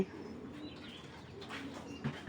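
Belgian Red Fox bloodline racing pigeon cooing softly, a few faint low coos near the end over a quiet room hum.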